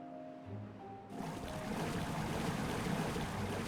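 Water gushing in Timberborn, breaking in abruptly after a quiet start and then rushing loudly and steadily as a broad, full flow.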